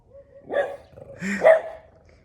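Two sharp dog barks spaced about a second apart, fairly close, with quiet pauses around them and no talking.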